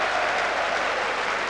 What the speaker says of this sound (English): Warmly applauded by the Good crowd.